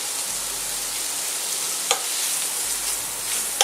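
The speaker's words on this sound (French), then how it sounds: "Ensuite, on met les tomates." Tomatoes tipped into a hot pan for squid-ink spaghetti with seafood, giving a steady bright sizzle with a couple of sharp clinks from a utensil, close up and without any voices.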